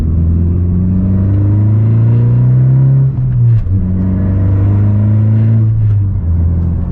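A tuned 2018 Honda Civic Si sedan's engine revs up, drops briefly during a gear shift, then pulls strongly again, a loud steady drone heard from inside the car.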